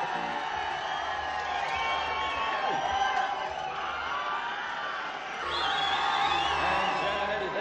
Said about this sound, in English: And John and Eddie, they got their share of the applause as well.